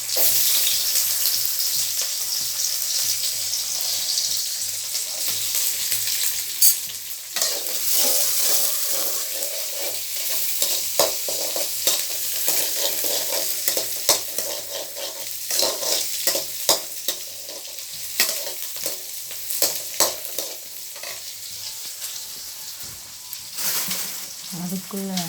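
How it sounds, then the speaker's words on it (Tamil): Small shallots tossed into hot oil with spluttering mustard seeds for a tomato kuzhambu sizzle steadily while being stirred, with scraping and clatter in the pan throughout. "சின்ன வெங்காயம் போட்டுக்கோங்க."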